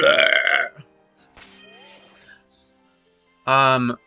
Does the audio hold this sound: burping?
yes